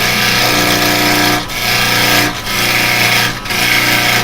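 A wooden bowl spinning on a lathe while a carbide chisel cuts it, a loud continuous whirring grind with three brief dips where the tool lifts off the wood.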